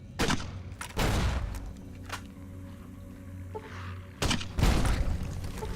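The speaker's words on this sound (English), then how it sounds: "let's try a few more grenades in here" Grenade explosions in Fallout: New Vegas, several broadband booming bursts with a pair near the start and another cluster near the end, separated by a lower rumbling lull, close and fairly loud.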